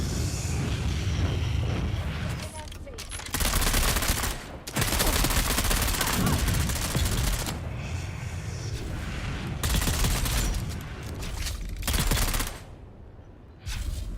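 Sustained bursts of gunfire from the video game Dune Awakening, loud and dense, with rapid shots in long volleys broken by brief pauses and a quieter stretch near the end.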